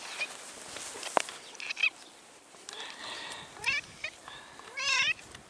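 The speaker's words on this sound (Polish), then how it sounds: "idzie kulawy kot." A limping silver female cat meows several times up close, short calls spaced irregularly over quiet outdoor background.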